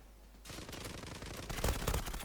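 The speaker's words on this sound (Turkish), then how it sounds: "Şuradan silah seslerini duyuyoruz." Gunfire in the online shooter Zula on the lumber factory map, dense rapid automatic bursts that grow louder and heavier partway through, continuous with no pauses and no talk.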